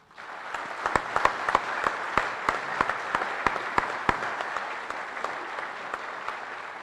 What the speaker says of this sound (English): please join me for a round of applause for this great family.